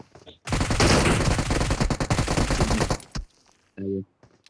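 Rapid automatic gunfire in a video game bursts out loud and dense for about two and a half seconds, then cuts off, followed by a brief low tonal blip.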